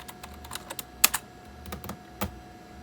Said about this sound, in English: first we have to actually type in KNOPPIX